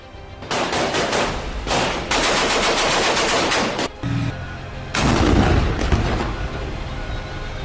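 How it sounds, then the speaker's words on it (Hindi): Rapid bursts of automatic gunfire in Gaza, loud and dense, come in long sustained volleys broken by short pauses, with heavy booming undertones and no voices. "दूसरी तरफ नेतन्याहू के रणबांकुरों ने ताबड़तोड़ फायरिंग से आतंकियों को जहन्नुम तक पहुंचा दिया"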